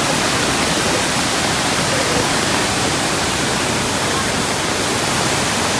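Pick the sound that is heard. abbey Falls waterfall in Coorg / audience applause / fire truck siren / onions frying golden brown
abbey Falls waterfall in Coorg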